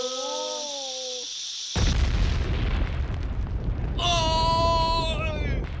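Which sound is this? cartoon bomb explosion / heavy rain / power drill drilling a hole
cartoon bomb explosion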